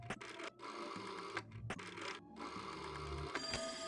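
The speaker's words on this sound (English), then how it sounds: "The teletrophone is making that odd noise again." In the video game There Is No Game, a teletrophone gives off an odd, buzzing, printer-like mechanical chatter. It comes in faint, uneven bursts with brief gaps.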